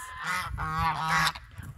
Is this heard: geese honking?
yes